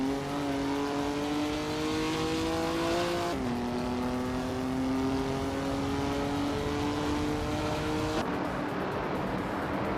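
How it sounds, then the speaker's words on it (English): A vintage 1966 Chevrolet Chevy II Nova SS engine drones loudly and steadily during a race, its pitch climbing in sustained revs and dropping sharply at each gear change, with no voices. "Amy is driving a vintage Chevrolet Chevy 2 Nova SS from 1966"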